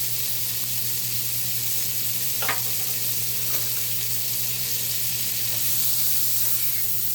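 Celery and onion saute in a STAUB pan with a continuous moderate sizzle, broken by a few faint stirring clinks, no talking.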